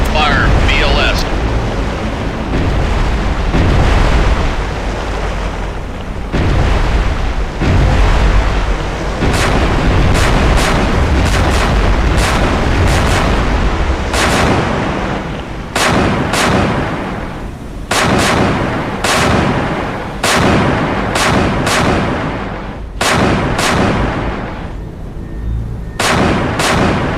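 Submarine VLS missile launches in the Cold Waters naval game, loud booming roars and sharp repeated blasts in quick succession over a dense rumbling bed, with a voice calling out intermittently.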